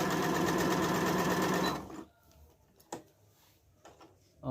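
Brother mini A25 sewing machine stitching a buttonhole, a loud steady mechanical whir of rapid needle strokes for nearly two seconds before cutting off, followed by quiet handling clicks.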